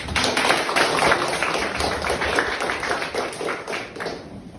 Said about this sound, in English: Once again, let us give a round of applause to our contest speaker, John Gabriel Ferrer.